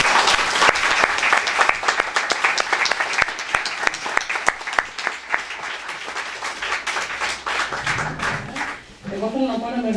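An audience at a poetry book presentation applauds in full, rich clapping for several seconds that thins out toward the end as a voice begins to speak.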